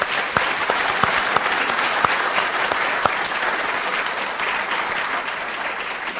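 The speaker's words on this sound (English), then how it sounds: "maybe just by show of hands we could give them a round of applause." An audience at a research forum claps for the speakers in a dense, sustained round of applause with a few sharper individual claps standing out.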